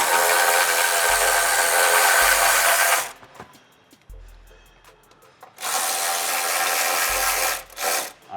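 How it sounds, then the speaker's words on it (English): An electric impact tool loosens 17 mm control arm bolts on a Honda S2000 during front and rear strut replacement. It makes two loud, sustained whirring bursts with a pause of clinks and handling noise between them. "we're gonna use the electric tool."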